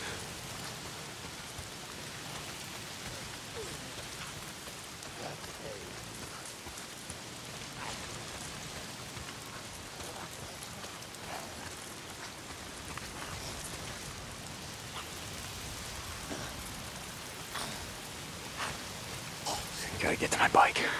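Rain falls steadily in the video game Days Gone as a soft, even hiss with scattered drops, fairly quiet and swelling slightly at the very end.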